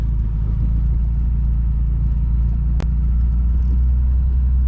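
A vehicle drives down a gravel road, giving a steady low engine rumble and road noise throughout, with one brief sharp knock midway.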